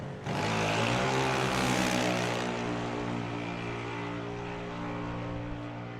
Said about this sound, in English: here Kai Womping the throttle there